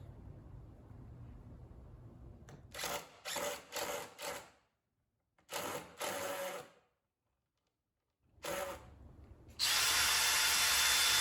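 Several short bursts from a power drill driving 3-inch screws into a workbench, whirring in quick pulses with pauses between, ending in a louder sustained run.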